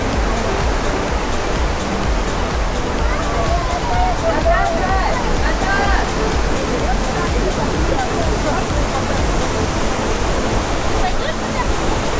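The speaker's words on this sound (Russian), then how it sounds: "Вот он, этот водопад." A loud, constant roar of a nearby waterfall on Ai-Petri in Crimea fills the clip, with a faint voice briefly audible under the rushing water and spray.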